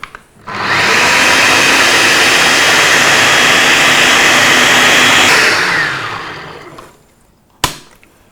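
A spiralizer cutting yellow zucchini into spirals gives a loud, steady whirring grind for about five seconds, then winds down and fades, followed by a single sharp knock near the end.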